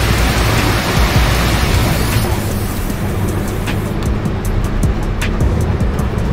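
Heavy, steady rain in a bus simulator game, driving a Scania bus, hisses loudly throughout with a low rumbling drone underneath and a few faint ticks near the end.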